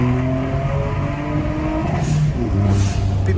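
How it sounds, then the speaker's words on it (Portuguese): Remapped VW Up TSI accelerating hard on a test track, a loud steady engine drone with rising harmonics, a brief gear-change dip near the end, and faint road noise. "Vamos pra pistazinha de teste da última acelera no upzinho"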